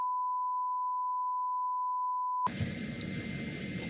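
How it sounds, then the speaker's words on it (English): A steady pure censor bleep holds for over two seconds, then cuts out into muffled, noisy background. "Well, I hear some beeping."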